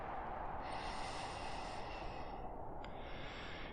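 A deep, drawn-out inhalation through the nose during a guided breathing exercise, close and steady for several seconds, with no talk over it.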